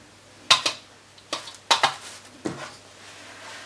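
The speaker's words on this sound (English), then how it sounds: "I'm going to use a spatula, rubber spatula, and I'm going to do a little bit at a time." A rubber spatula folds corn casserole mixture in a bowl, with a few close, crisp knocks and scrapes against the bowl, spaced irregularly, in a quiet room.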